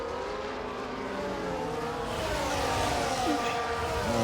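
A Haas Formula 1 car in a racing game at the Jeddah circuit tucks in behind a Ferrari. Its high-pitched engine whine holds steady and builds slightly in loudness, with a faint voice underneath.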